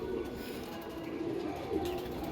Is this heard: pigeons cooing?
yes